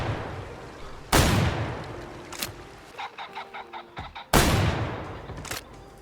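Two loud, sharp shotgun blasts in the hunting game Way of the Hunter, fired at birds a few seconds apart, each with a decaying echo, while fowl cluck and flap in between.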